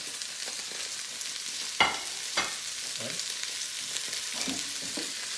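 Chopped onions and celery fry in a pan for baked ziti, a soft continuous sizzle broken by a few sharp stirring scrapes and tosses, close and fairly quiet.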